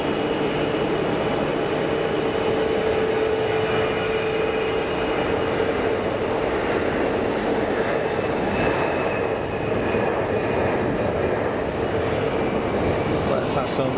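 An easyJet jet takes off at Geneva Airport, its engines a loud, steady, broadband roar that holds across the whole stretch without fading.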